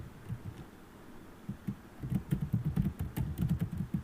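Contact details are typed on a computer keyboard in quick uneven bursts of soft close key clicks, sparse at first and then denser, with no speech over them.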